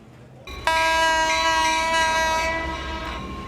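An old blue local express train rolls slowly into Fangliao station. A loud, sustained multi-tone horn blast starts after a brief low rumble and holds steady, fading slightly near the end, with no talking.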